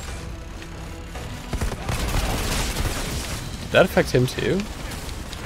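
Explosion and gunfire in the game Outriders, an enemy grenade going off amid a muffled rumble of firing, with someone talking over it.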